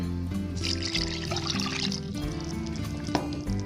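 Milk pours into a bowl of poğaça dough ingredients with sugar and salt, a soft close liquid splash and trickle lasting a few seconds, faint against light kitchen background.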